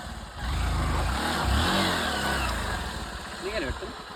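The engine of a vehicle stuck after taking a shortcut revs hard and holds high, droning loudly with rising and falling pitch, while people talk over it close by.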